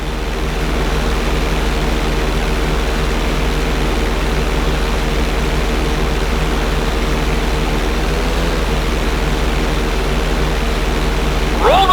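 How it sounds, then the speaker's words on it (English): Steady propeller-plane engine drone from a stunt plane held upside down during a flight-school lesson in GTA 5, a loud continuous low hum with a faint rising whine near the end. "Hold the plane upside down for several seconds."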